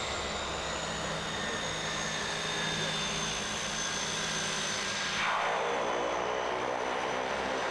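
An aircraft landing directly on glacier ice near Mount McKinley, heard as a steady loud engine roar from inside the cabin, with a brief whooshing shift partway through as it touches down.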